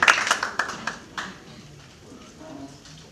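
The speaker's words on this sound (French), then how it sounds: "S'il vous plaît, une bonne main d'applaudissement pour M. Jean-Renaud Jean-Pierre." An audience at a diaspora week event gives a short round of applause. A few sharp claps come at the start and quickly thin out, fading to quiet room noise within about a second and a half.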